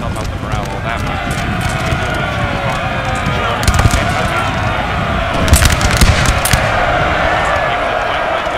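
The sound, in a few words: musket and cannon gunfire in video game Napoleon Total War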